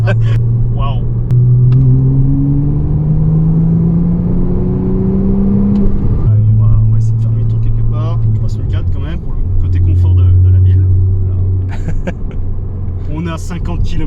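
A Porsche Cayman S 987 engine revs hard toward the rev limiter, its pitch climbing steadily, dropping at a gear change, then climbing again, loud and close from inside the car with faint voices over it.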